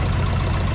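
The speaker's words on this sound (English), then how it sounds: "I hope you can hear me from the noise of the engine" A rebuilt 165 tractor engine runs with a steady, loud, close mechanical drone and strong low rumble, unbroken and alone.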